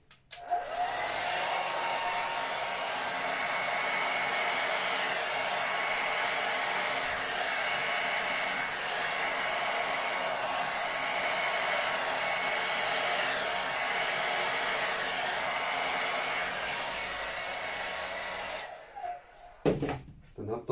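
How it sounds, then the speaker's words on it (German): A hair dryer set to a low setting blows a steady, continuous whir while drying paint on a fluid-art canvas, running unbroken for most of the stretch before cutting off near the end with a few handling knocks. "Also ich stelle den Föhn wieder auf kleinere Stufe,"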